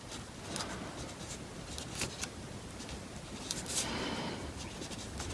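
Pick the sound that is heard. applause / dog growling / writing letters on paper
writing letters on paper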